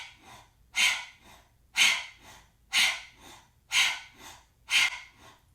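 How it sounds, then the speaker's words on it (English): Forceful rhythmic panting breaths during a kundalini yoga kriya, about five strong breathy bursts roughly a second apart with softer breaths between, close and alone. "Pant like a dog, and notice equal inhale, equal exhale."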